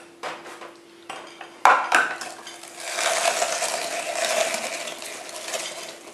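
Clicking and scraping of a rotary grater slicing sausage, a few sharp clacks early on followed by a steady rasping shred that continues to the end, close and fairly quiet.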